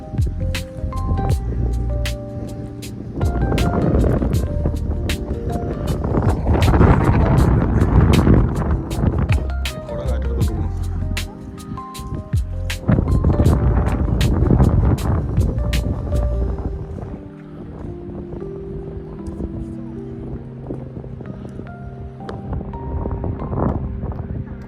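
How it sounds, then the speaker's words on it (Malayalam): Strong wind gusts buffet the microphone at the Pandippara hilltop viewpoint, a loud, continuous roaring rush that swells and eases in waves over the whole stretch. "കാറ്റ് ഒരു രക്ഷയില്ല കേട്ടോ. ഭയങ്കര കാറ്റാണ്."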